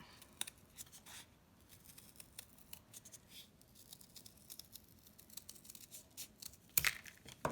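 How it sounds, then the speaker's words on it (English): Scissors cutting a paper heart for a suncatcher craft, close and quiet, with a run of small crisp snips and rustles of paper and a sharper snip near the end, with no talk. "I'm going to go in carefully with my scissors, watching out for fingers, and I'm going to cut out the middle to get that heart out."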